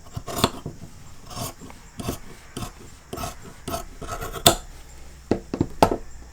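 Scissors cut through men's shirt fabric in a series of crisp, close snips and rasping slices, irregular and spaced apart, with no talk.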